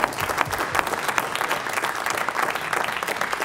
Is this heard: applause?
yes